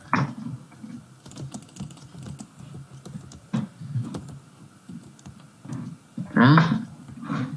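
Rapid computer mouse clicks, scattered and fairly quiet, sound during a Minecraft Bed Wars session, with talking and louder bursts of game noise over them.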